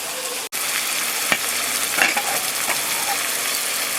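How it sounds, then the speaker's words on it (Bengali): Tomato frying with spices in a pan for rajma tarka, a steady close sizzle with scraping stir strokes, briefly interrupted by a sharp cut near the start, no talking. "টমেটোটা ভাজা হোক মশলার সঙ্গে"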